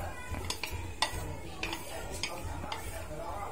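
A Vietnamese snail salad being tossed with mango, cucumber and fish sauce in a pan, giving light scattered clinks and scrapes of utensils against the dish, close and irregular, with faint background noise.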